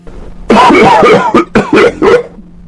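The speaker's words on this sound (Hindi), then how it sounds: "मुझे दोबारा किसी के खांसने की आवाज़ आने लगी" A person coughs several times in loud, close, raspy bursts, a long hacking fit followed by three shorter coughs.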